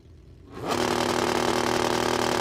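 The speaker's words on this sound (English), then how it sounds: "STS Speed Shot drag bike" STS Speed Shot drag bike on a drag strip at Warwick Dragway, Australia, rising from near silence into a loud, sustained, high-revving engine roar within a second and holding it.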